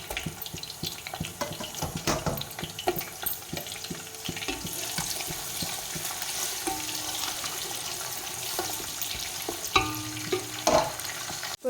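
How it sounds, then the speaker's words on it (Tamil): 100 g of sliced large onions sautéing in hot oil until golden for seeraga samba mutton biryani, a continuous close sizzle broken by repeated clinks and scrapes of the spoon against the pan. "இப்போ நம்ம அரிஞ்சு வச்சுருக்க 100 கிராம் பெரிய வெங்காயத்தை சேர்த்துக்கலாம். இது வந்து நல்லா பொன்னிறமாக வதங்கி வர அளவுக்கு வதக்கிக்கலாம்."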